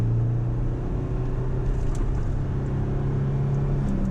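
A Jeep Gladiator with a manual transmission drones steadily from inside the cab, its engine tone holding firm and loud under constant load, with no distinct gear change standing out.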